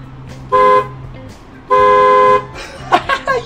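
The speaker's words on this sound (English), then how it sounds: "this is the horn of the bus" Two sustained, loud bus horn blasts, close by and separated by a short pause, followed by laughter and brief voices.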